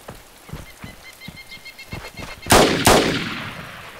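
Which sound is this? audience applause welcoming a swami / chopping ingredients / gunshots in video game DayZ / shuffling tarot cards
gunshots in video game DayZ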